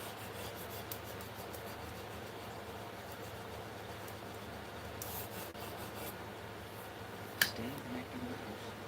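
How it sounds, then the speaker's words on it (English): Steady, close-up rasping as a small sanding stick rubs back and forth against a surface, continuous with a couple of sharper scrapes near the end. "I can basically feel it with this little sanding stick."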